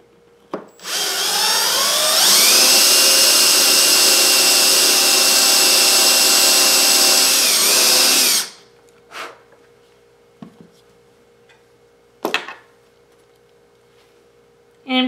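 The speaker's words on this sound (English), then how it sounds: "And I'm just using my drill with a countersink bit." A power drill fitted with a countersink bit whirs into a wooden piece in one sustained, loud run of about eight seconds, followed by a few short clicks and taps of handling.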